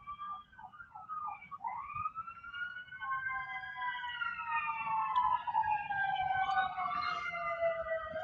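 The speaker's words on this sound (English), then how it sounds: "Pardon the siren." An emergency siren wails outdoors at moderate distance, its rising and falling tone sweeping through several cycles as the vehicle passes, with no talking over it.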